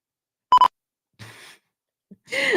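A single short electronic beep sounds twice in quick succession, clear and close, followed by quiet breaths and faint rustles.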